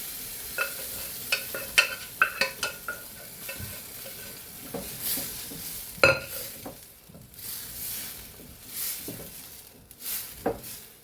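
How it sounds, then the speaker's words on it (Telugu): Chickpeas being cooked in a pan for a Kerala-style masala curry, with intermittent stirring scrapes and utensil knocks against the pan over a soft background sizzle, close and moderately loud with no talking. "ఇందులోని గుగ్గులు వేసేసి ఈ చిక్ పీస్ అనేది ఉడకబెడదాము"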